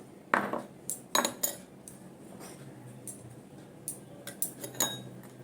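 A metal spoon scrapes and clinks against a pan while fried peanuts and cashews are mixed for homemade dalmut, irregular sharp knocks and rattles over a quiet background.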